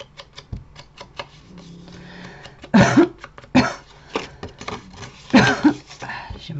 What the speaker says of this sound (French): J'ai ma toux qui veut pas partir et ça me stresse.